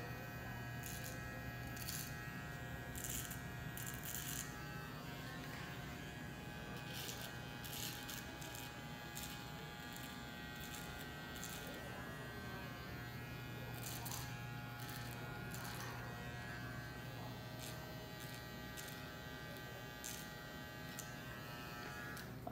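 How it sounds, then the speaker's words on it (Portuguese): An electric hair trimmer buzzing steadily while its blade tip carves a freestyle design line into short hair, a constant close hum with repeated brief scraping strokes as it cuts. "vou utilizar somente a pontinha da lâmina pra fazer meu risco"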